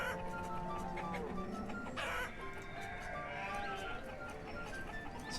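Chickens cluck and a rooster crows in the video game Banished, amid a busy, layered backdrop of tones and other animal noises, all fairly soft.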